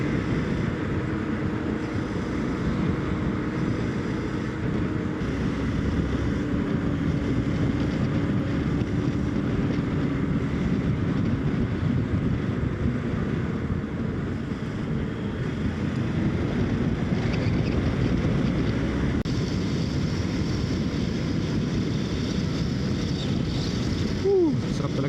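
Steady roar of wind buffeting the microphone while riding a motorcycle along a quiet open road in Dubai in the early morning, constant and fairly loud throughout with no clear voices.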